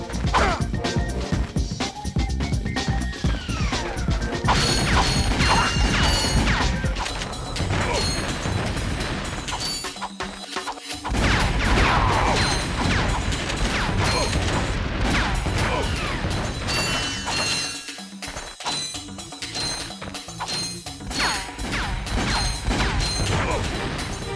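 Ratchet and Clank gameplay fills the scene with constant clanking, metallic crashes and rattling pickups as bolts are collected amid explosive impacts, a busy, dense stream of game effects with brief pauses.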